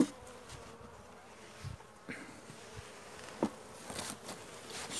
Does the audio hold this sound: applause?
no